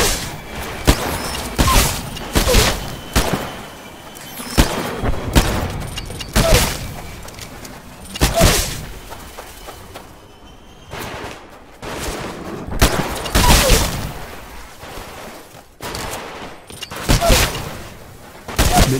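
Heavy gunfire from a Titanfall live fire training exercise, with dense bursts of automatic fire and repeated loud shots, booms and thuds in quick succession across the whole stretch, near and intense.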